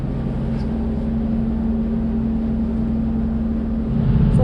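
A passenger ferry crossing from Rothesay to Wemyss Bay in Argyll, with a steady loud engine drone and rumble mixed with wind buffeting the microphone, swelling slightly louder at the very end.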